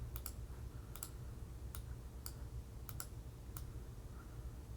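Slow, sparse keystrokes tap on a computer keyboard, six or so isolated clicks spaced out over a few seconds, faint against a low room hum, with no one speaking.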